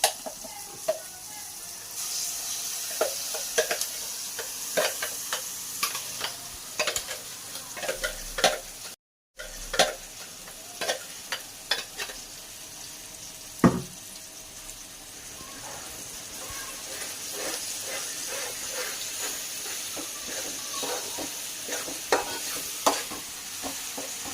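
Ground masala is stirred into an ivy gourd curry in a pan: repeated scraping strokes of a spoon sound over a soft background sizzle, irregular and close, with one brief dropout partway through.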